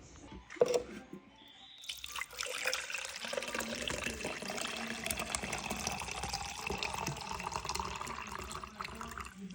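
After a brief clink, Kool-Aid pours steadily into a cup for several seconds with a continuous splashing gurgle, close and fairly quiet.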